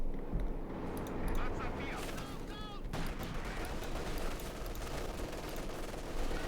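Dense, continuous gunfire and battle noise from a Company of Heroes 2 match between Wehrmacht and Soviet armies, with StuG assault guns in play, a steady roar of shots and impacts with brief whistling sounds partway through.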